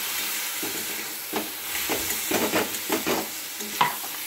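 Soaked Gobindobhog rice is sautéed in a hot pan, its constant close sizzle broken by a quick series of rhythmic scraping stir strokes. No speech.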